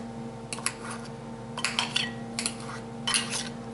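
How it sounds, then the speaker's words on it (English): Butter and broccoli chopped on a plate make several short clinks and scrapes of cutlery against the dish, coming in small bursts over a faint steady hum. "Now chop my broccoli up a little bit."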